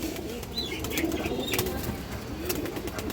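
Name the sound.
pigeons cooing and flapping wings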